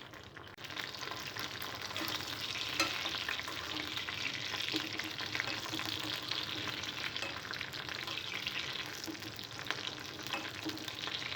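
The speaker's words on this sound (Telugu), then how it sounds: "ఆయిల్ వేడైన తర్వాత పచ్చిమిరపకాయలని ఫ్రై చేసుకోవాలి" Green chillies frying in hot oil in a pan, a steady, dense sizzle that runs without a break from start to end, close and fairly loud, with occasional stirring scrapes and no voices.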